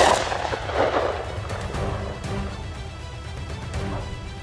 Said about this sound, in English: a sharp gunshot rang out